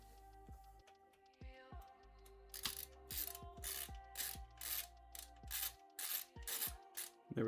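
Screws being driven into a Fractal North XL PC case during a gaming PC build, heard as quick repeated ratcheting clicks and short mechanical bursts in a steady rhythm, close and clear.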